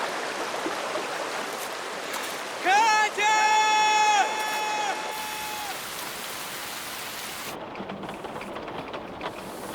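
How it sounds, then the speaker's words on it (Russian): Heavy rain pours steadily as a dense, even hiss throughout, with a brief tonal whine rising over it in the middle. "Товарищ майор, дождь усиливается."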